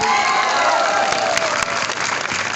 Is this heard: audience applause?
yes